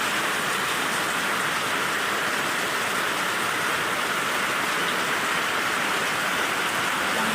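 Steady, dense rain pours down without a break on a village farm, a constant hiss of drops striking surfaces close by.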